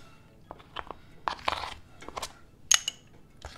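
Crisp crunching bites and chewing on crunchy pepperoni pizza crust cooked in a Ninja Foodi Grill, several sharp cracks scattered irregularly, close and fairly quiet.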